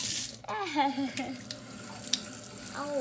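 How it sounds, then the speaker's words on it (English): A tap runs in a thin trickle, a steady close splash of water filling a container, with a few faint vocal sounds over it. "Turn the water on just like a trickle."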